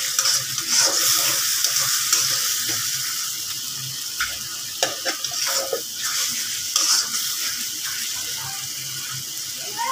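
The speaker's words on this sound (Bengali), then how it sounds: "তো 2 মিনিট ধরে কষিয়ে নেই" Spices for a fish bhuna are cooked down with a little water in a pan, giving a steady close sizzle broken by repeated scraping stirs. No one speaks.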